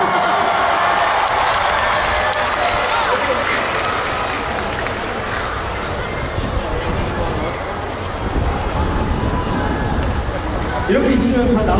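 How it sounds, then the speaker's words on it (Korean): Dense, sustained crowd noise at an outdoor music festival in Chungju, South Korea, with an audience clapping and cheering loudly throughout, a wash of applause and voices under a brief spoken line. "박수 주세요."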